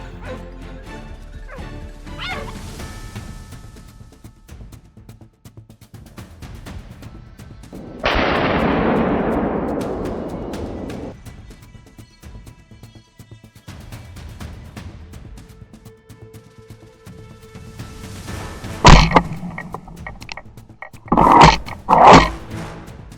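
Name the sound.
hunting dogs attacking wild boar, rifle gunshots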